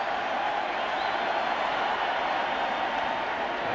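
A baseball stadium crowd at an NLDS playoff game between the Dodgers and Cardinals roars loudly and steadily, a dense wall of cheering and applause with no breaks.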